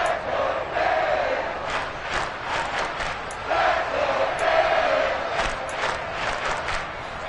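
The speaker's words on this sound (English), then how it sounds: "The crowd getting into it as we come up on a big 3rd down." Stadium crowd in the Madden 23 football video game roars and cheers steadily ahead of a big third down, a dense, sustained wash of voices with brief swells and a few sharper peaks.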